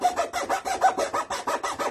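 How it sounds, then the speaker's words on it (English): A hand rasp files in quick, close strokes, a rhythmic gritty scraping of about a dozen short passes in two seconds with no talking. "So what I did is got a rasp, I think it's called."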